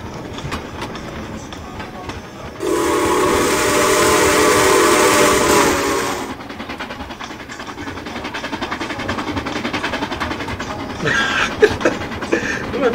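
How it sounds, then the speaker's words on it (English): A train rolls past in a broad, loud burst that swells and holds for about four seconds, then drops back to a lower rumble of rail noise with some clatter, heard close by. "Playing this while the train's just going by."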